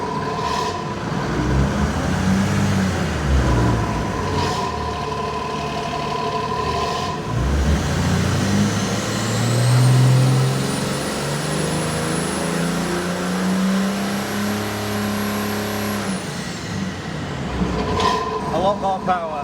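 An OM606 diesel crate engine runs on a Superflow dyno at half throttle, a loud, steady mechanical roar with rising and falling tones, while people talk over it.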